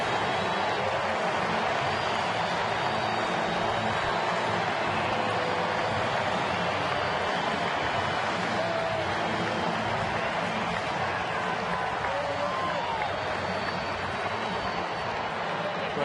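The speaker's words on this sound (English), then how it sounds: "Carlos will be at second and listen to the crowd" A packed baseball stadium crowd in Philadelphia roars steadily after an RBI double against Atlanta in a 2010 game. The cheering is a dense, unbroken wash of noise throughout.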